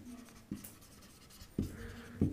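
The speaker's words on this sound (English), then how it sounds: "you write whatever is given" Numbers being written by hand with a pen on paper: soft scratchy strokes with a few sharper taps where the pen lands, close and quiet, with no talking.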